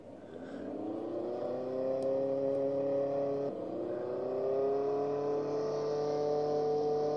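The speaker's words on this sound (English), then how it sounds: "It's a Ferrari. Let's get it." A Ferrari engine in Roblox Jailbreak revs steadily and loud, its tone climbing and holding with a brief dip midway, then rising again, up close with no talking.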